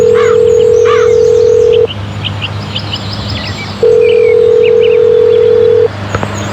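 A phone redial in the CSI video game produces two long, loud, steady tones separated by a two-second gap, with small chirping bird calls in the background.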